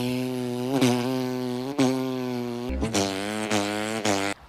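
Didgeridoo played with a steady low droning pulse, broken by tongue-driven rhythmic bursts and pitch bends that mimic a kangaroo hopping along a road, alone and fairly close.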